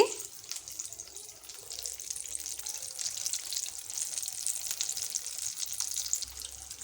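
Batter-dipped ulava purnam burelu fry in hot oil with a soft, continuous bubbling sizzle at moderate distance, fairly quiet and unbroken, with no talking.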